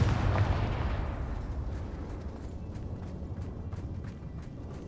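A Confringo blasting spell bursts in Hogwarts Legacy, a loud booming explosion that opens with a heavy low thump and then decays into a long rumbling, crackling tail of debris and fire.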